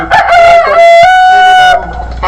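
A tiger chicken rooster crows once, loud and close, a long drawn-out cock-a-doodle-doo with a rising start and a held, wavering tail, alone with no talk.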